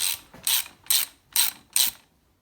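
A ratchet wrench clicks through five evenly spaced bursts while undoing the clutch cover bolts on a Yamaha XVS650 motorcycle, crisp and close, then stops.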